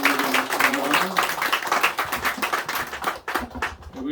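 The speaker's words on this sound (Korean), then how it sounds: "하나님께 영광 박수 올려드리겠습니다." A congregation at a Sunday morning church service claps in a fast, rhythmic pattern, loud and close, with voices sounding over the clapping.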